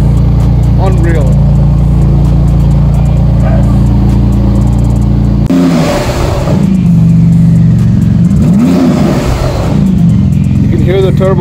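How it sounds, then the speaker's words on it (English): Porsche GT2 RS supercar with its turbos spooling, a loud rising whoosh and whine that surges twice over a steady engine drone, with voices talking over it. "You can hear the turbos like spooling."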